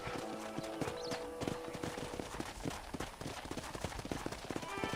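Horse hooves clip-clop in a steady trot while riding in the Red Dead Redemption video game, rhythmic hoofbeats close up, with a brief whinny early on.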